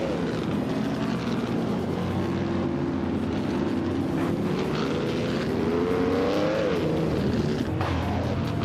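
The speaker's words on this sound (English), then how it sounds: "The Dreamkeeper is driving a 1960 Scarab Indy." Several 1960 Scarab Indy race cars roar together in a racing video game, a steady dense engine drone with a rising whine near the end, continuous and loud with no talking.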